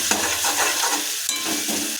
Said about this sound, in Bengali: এটাকে আমরা এখন মিনিট এইভাবে ভাজা করতে থাকবো লো ফ্লেমে।